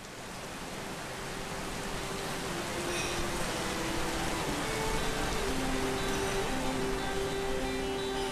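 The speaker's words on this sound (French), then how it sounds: "le ciel se remplit d'une pluie à faire des enfants, comme les Amérindiens aiment appeler ces averses tropicales." A tropical downpour on the Oyapock river, a dense, steady hiss of heavy rain that swells slightly and holds without pause.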